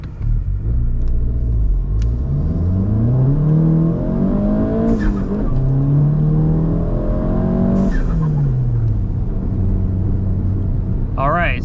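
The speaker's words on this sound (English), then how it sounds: "All right, 0 to 60 test. Number 1, no launch control, traction control on." A tuned VW MK7 GTI with an EQT stage 2 tune launches in a 0 to 60 test without launch control and with traction control on. The engine roars loudly and continuously, rising in pitch through several gear shifts, heard from inside the car.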